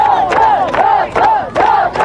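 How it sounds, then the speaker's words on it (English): A large crowd in Pristina roars and cheers in loud rhythmic surges, chanting voices rising and falling in repeated waves close by. "Approaching Pristina, the crowds got bigger and louder."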